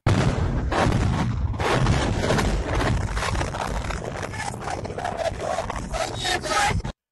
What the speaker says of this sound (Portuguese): Esse barulho não dá para saber se é a explosão de alguma coisa chegando ou se é a defesa antiaérea aqui